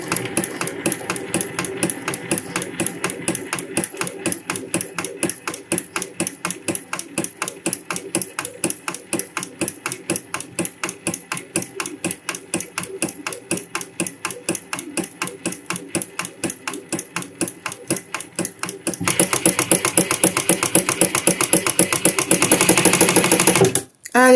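An industrial sewing machine stitches a motorcycle seat, fast rapid clatter of needle strokes in a steady rhythm, then speeding into a louder continuous whir near the end before stopping.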